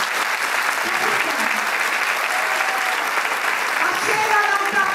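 Audience at an early-childhood education congress applauding: dense, sustained clapping from a large crowd, loud and even throughout, with voices faintly audible underneath.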